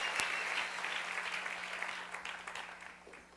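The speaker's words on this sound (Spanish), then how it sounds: "Dale un aplauso bien fuerte, Rey." Church congregation applauding steadily during a worship service, a dense wash of clapping that holds fairly even before slowly thinning toward the end.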